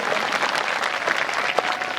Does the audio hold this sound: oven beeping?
no